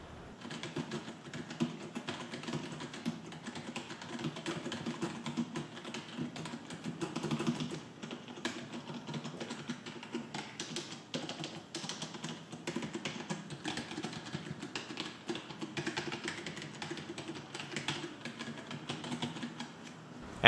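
Steady, quiet typing on a HyperX Alloy Core RGB membrane gaming keyboard: soft, muffled keystrokes patter continuously at a brisk pace for about twenty seconds, with no talking.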